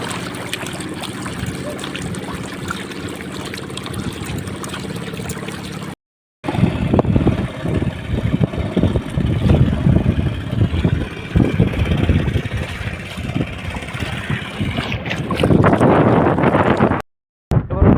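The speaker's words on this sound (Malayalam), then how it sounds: "വള്ളത്തിൻ്റെ എൻജിൻ സ്റ്റാർട്ട് ചെയ്ത് നീങ്ങിക്കൊണ്ടിരിക്കുകയാണ്" A fishing boat's motor drones steadily on backwaters with wind buffeting the microphone and water splashing, briefly cutting out twice.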